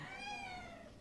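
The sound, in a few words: cat meowing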